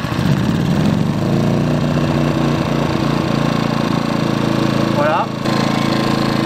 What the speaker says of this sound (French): ici, il y a un démarreur. Donc je vais le démarrer d'abord de manière électrique.